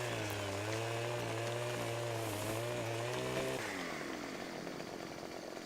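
In Farming Simulator 2017, a chainsaw trimming a tree holds a steady buzzing drone, rises briefly, then drops in pitch as the engine winds down near the end.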